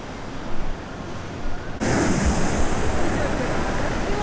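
Sea surf washing onto a beach of large pebbles by a hotel pier in Kuşadası, Turkey: a steady broad rush that swells louder partway through, with wind buffeting the microphone and no voices.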